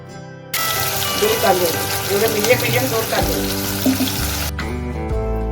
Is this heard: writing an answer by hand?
no